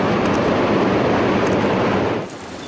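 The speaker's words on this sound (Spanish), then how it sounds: "Llueve, agua que se filtra entre las piedras constantemente" Water seeps through the stones inside a cave in the Andahuaylas highlands of Peru and falls as constant indoor rain, a loud, dense, steady hiss and patter that fades slightly at the end.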